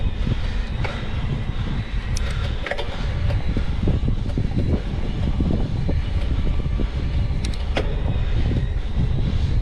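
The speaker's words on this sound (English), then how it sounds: "Through here, I'll let you listen to the motor." Orbea Wild electric mountain bike motor under load while climbing a hill, a steady mechanical drone with some whine, heard close and continuous alongside rolling tyre and wind noise, no talking.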